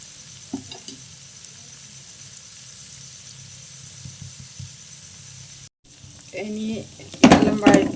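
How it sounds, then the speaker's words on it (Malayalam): Prawns, heads still on, fry in a pan for Kerala-style prawn biryani with a steady hissing sizzle throughout; near the end a voice speaks and stirring noises swell louder. "പൊരിഞ്ഞ് വരുന്നുണ്ട് തലയും എല്ലാം ഒരുമിച്ച് തന്നെ പൊരിഞ്ഞോളൂ"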